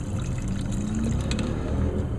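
Ethanol-free 93 octane fuel pours from a container while someone works at a truck, a steady, close liquid gurgle that runs without pause and without voices.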